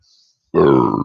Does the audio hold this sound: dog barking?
no